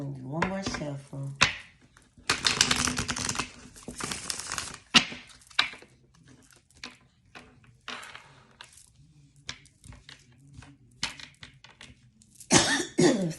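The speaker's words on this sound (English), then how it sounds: "I'm gonna do one more shuffle." Bursts of cards being shuffled and riffled, with scattered taps and clicks in between and a brief cough or voice near the start and end.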